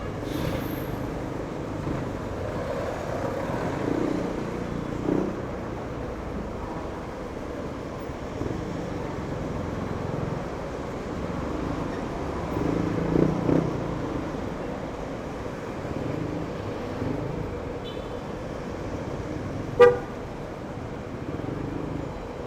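Heavy road traffic forms a steady, low rumble of engines and passing vehicles throughout, with a single short horn toot standing out near the end.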